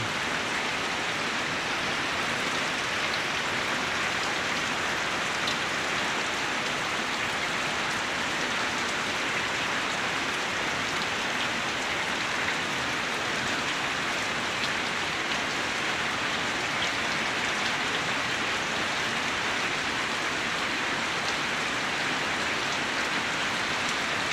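Steady, unbroken rain after days of nonstop downpour, a dense even hiss of drops on surfaces that stays at the same level throughout with no voices or other sounds breaking through.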